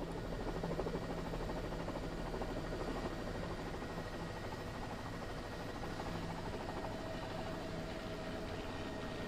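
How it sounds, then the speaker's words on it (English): Steady, heavy engine roar of a large Air National Guard aircraft approaching, continuous broadband rumble with a low drone, no talking. "Let's listen in a little bit as this massive plane makes its way in."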